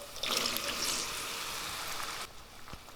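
Water pours steadily into a pan, a soft continuous splashing that fades to a quieter hiss after a couple of seconds.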